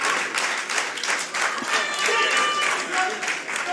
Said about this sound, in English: This crowd really, really into this match